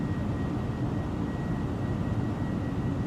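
Engines of an Airbus A318-100 climbing toward cruise altitude in Microsoft Flight Simulator 2020 give a steady, broadband cabin roar with a faint constant whine, unchanging and alone throughout.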